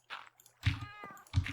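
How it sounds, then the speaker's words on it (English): Minecraft cats meowing in the video game, three short distinct meows in quick succession, close and clear with no talking. "These cats, they're meowing at me."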